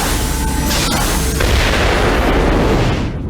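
A Sentinel robot explodes in the video game X-Men Origins: Wolverine with a loud, sustained booming blast that rumbles for about three seconds before trailing off slightly at the end.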